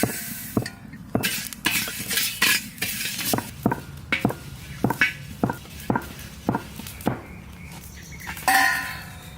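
Fennel and cumin seeds dry-roasting in a hot pan, stirred with a utensil that scrapes and clinks against the metal in a steady run of close strokes, with faint sizzling between them.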